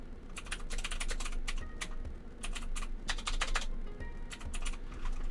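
Steady, rapid typing on a computer keyboard close by, with dense bursts of clacking keystrokes and short pauses throughout.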